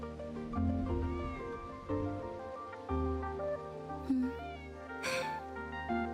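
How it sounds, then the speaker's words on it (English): A cat meows repeatedly in a video game, with drawn-out tonal calls spread across several seconds over a steady musical backdrop, with no talking. "You pet that cat."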